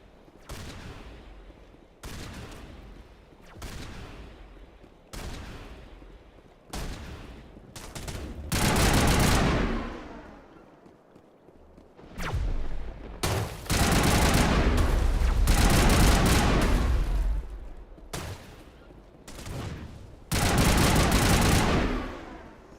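Crossfire from Mass Effect video game weapons, with loud bursts of rapid automatic fire and sharp shots. The bursts repeat in clusters separated by brief lulls, some stretching into long sustained volleys.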